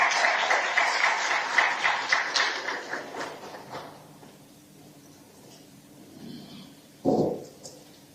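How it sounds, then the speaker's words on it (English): An audience applauds at the African Children Climate Summit in Addis Ababa, with loud clapping that fades out after about four seconds, followed by quieter room noise and a brief thump. "Let's just give him a round of applause as he's coming here."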